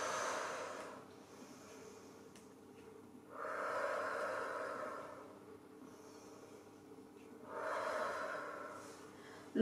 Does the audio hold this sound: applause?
no